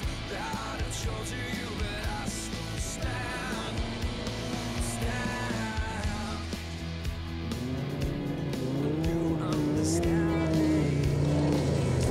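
Race cars pass along a course during an off-road racing season, engines droning and revving loudly with rising and falling pitch as they go by, over a steady roar of crowd and motor noise.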